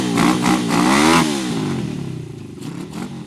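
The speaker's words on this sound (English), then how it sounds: "It's the sound of a souped-up motorcycle" A souped-up motorcycle engine revs loudly up close, rising to a strong growling peak and then settling into a rougher, fading idle rumble.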